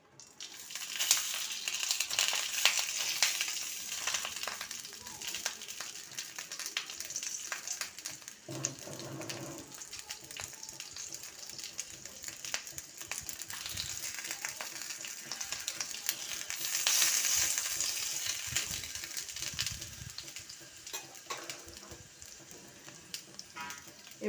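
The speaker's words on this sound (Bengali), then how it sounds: "এবার কলা পাতাটা দিয়ে দিলাম।" A banana leaf lies in hot oil in a pan for an egg paturi dish, giving a continuous crackling sizzle with brief crinkles and spatters, close and moderately loud, with occasional voices underneath.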